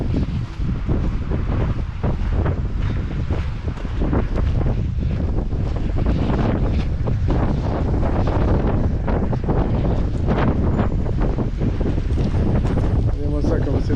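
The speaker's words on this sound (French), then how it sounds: "Il y a beaucoup de vent, ça ne me change pas de Mazères." Strong wind buffets the microphone at a seaside viewpoint in Sète, roaring continuously and close throughout while someone talks over it.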